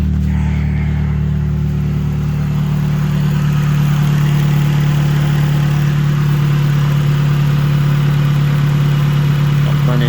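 A 2002 Acura RSX with a 3-inch exhaust idles steadily nearby, a deep, even drone that holds for the full stretch with only slight fluctuation and no voices.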